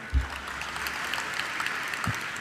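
A crowd at an Indore talk claps steadily, a dense wash of applause heard close and continuous, with a couple of low thumps.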